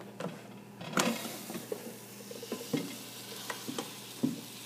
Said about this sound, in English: Oh man, here's a sizzle.